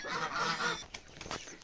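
Geese being driven by a farmer near young chicks, honking in a loud, close cluster of rapid calls that breaks into a few sharper separate honks.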